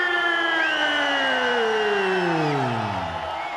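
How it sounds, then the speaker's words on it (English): A packed wrestling arena crowd in Southern California roars for Sting at a 1995 WCW event, a loud sustained wall of cheering and whistles, with an announcer's voice running over it. "This certainly is a Stinger hometown type crowd, and they are jammed here from everywhere in Southern California"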